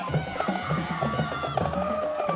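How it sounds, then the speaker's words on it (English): A crowd at a homecoming high school football game stirs and cheers in the distance, with drum line beats and tonal music running through the noise. "You can hear the crowd getting riled up."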